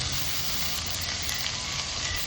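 Onions and spices frying in a pan for a pepper chicken gravy, giving a steady, close sizzle that holds evenly with no talking.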